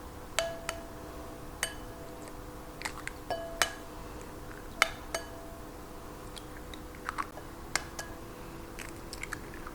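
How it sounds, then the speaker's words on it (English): Eggs cracked one after another into a medium bowl, sharp faint taps and clinks of shell against the rim spaced irregularly, with quiet background hum. "So I have a medium bowl. I'm going to crack 10 eggs into it."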